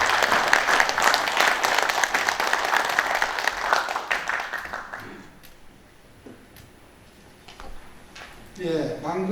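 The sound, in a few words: audience applause welcoming the speaker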